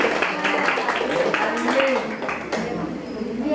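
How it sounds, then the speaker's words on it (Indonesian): Children in a classroom clap for a classmate, producing a busy, overlapping patter of small hands with voices chattering through it. "Wih, tepuk tangan dong."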